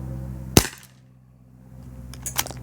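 A single sharp shot from a Bear River 4-inch revolver during a chronograph test, loud and close, fading into quiet with faint rustling afterward.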